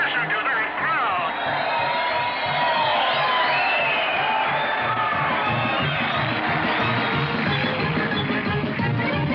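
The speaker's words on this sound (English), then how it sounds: "will you listen to that crowd?" A large crowd cheers and whoops at the finish of a race, a loud, sustained roar with shouting voices throughout, heard close and continuous without a break.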